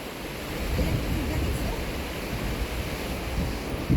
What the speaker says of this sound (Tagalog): Di namin kayang tumawid kasi malakas yung agos, ah.